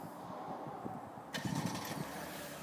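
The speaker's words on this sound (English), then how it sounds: "the first thing we're going to do is remote start the Chevy Blazer RS" Remote-started engine of a 2020 Chevrolet Blazer RS AWD, a low hum that sharpens into a quick crank and catch before settling into a quiet idle, heard faintly from nearby.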